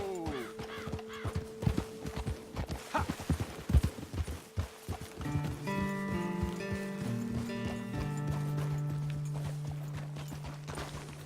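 Horses' hooves in a Red Dead Redemption 2 video game clop in quick, irregular beats at close range, with a snort or whinny, then give way to a sustained tonal music bed in the second half.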